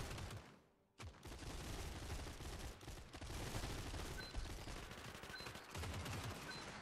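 Soldiers' gunfire in the Cepheus Protocol zombie strategy game, horde mode: dense, continuous volleys of rifle and machine-gun shots rattling almost without pause after a brief dip near the start, loud and sustained, with no talk.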